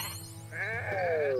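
Sheep bleating in the video game Renowned Explorers: a wavering, rising bleat that swells in the second half over a steady game music bed, heard alone without talk.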